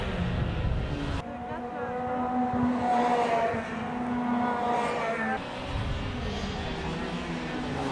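Race car engines drone and whine on a track as one car overtakes another, tonal engine notes rising and shifting, heard steadily at moderate distance; a commentator talks over them.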